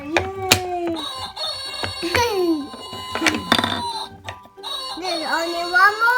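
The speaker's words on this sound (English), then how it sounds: "What's this? Rooster." Rooster crowing played electronically from a Melissa & Doug farm animal sound puzzle toy, with tinny chime-like tones and voices talking around it.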